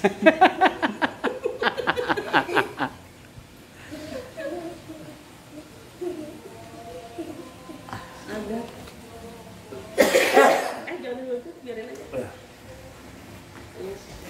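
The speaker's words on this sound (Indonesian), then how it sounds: "Batuk lagi guys." A person coughs during a therapy session: one sharp, loud burst about two-thirds of the way through. It comes between stretches of quieter talking and rhythmic vocal sounds.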